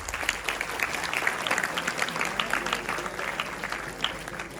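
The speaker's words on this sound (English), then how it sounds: "Let's give up a huge round of applause to our esteemed panelists." An audience at a college entrepreneurship summit panel session applauds the panelists, a moderate, steady patter of many hands that sounds somewhat distant in the room.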